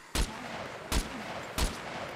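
Three sharp gunshots in the video game SCUM ring out, loud and punchy, spaced under a second apart against a quiet background.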